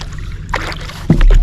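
A boat paddled along a quiet river channel, with wind rumble on the microphone and a single close splash of a paddle stroke near the end.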